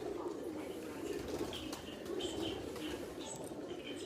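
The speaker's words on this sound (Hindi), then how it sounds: "ये देखें इंतहाई छोटा सा एक कबूतर है" A very small, weak pigeon, bought in Multan as a presumed female, coos softly and steadily throughout against a faint background hiss.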